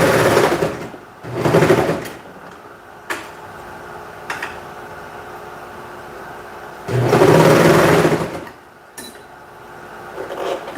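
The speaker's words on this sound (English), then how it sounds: "I feel like my needle's gonna break soon because I've been sewing a lot." An industrial sewing machine runs in two bursts of fast whirring stitching, each a couple of seconds long, with quieter pauses and small clicks between them.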